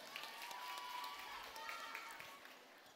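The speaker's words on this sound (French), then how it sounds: "On peut les applaudir ?" Faint, distant clapping from a crowd at a Paris beauty event, with a sustained tone and scattered chatter over the low patter.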